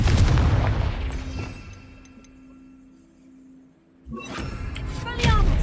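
Confringo fire spells in the video game Hogwarts Legacy burst as loud, booming blasts at the start, then a quieter rumbling lull before heavy explosions crash back in, with a player's voice heard among them.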